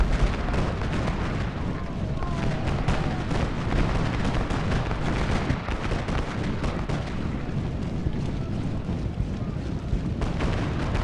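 Artillery guns firing in the Civil War strategy game Ultimate General: Gettysburg, a dense, unbroken rumble of booming cannon shots and bursts blending into a loud, steady battlefield roar throughout.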